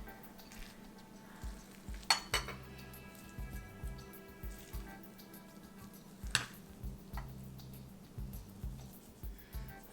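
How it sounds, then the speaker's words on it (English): Cooked upma, a South Indian semolina dish, being spooned into a bowl: soft wet squishing and scraping with a few sharp spoon clicks against the pot, close and moderately loud, with no talking. "Let's put it in a bowl and put it to the test."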